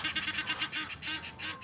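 A quick run of loud, nasal honks from Egyptian geese at an animal park, close by, repeating in an uneven rhythm with no talk over them.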